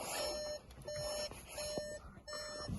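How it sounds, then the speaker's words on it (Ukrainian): Repeated electronic beeps in a steady rhythm, four evenly spaced tones, fairly quiet over a low background hum, the warning chime of a 2019 Skoda Octavia A7 1.6 TDI. "Заведемо, щоб не пікало."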